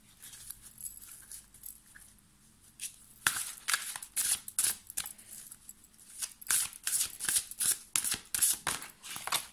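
Oracle cards are shuffled close to the microphone: soft rustling at first, then a run of crisp, rapid riffling bursts repeating in an uneven rhythm, with no voices.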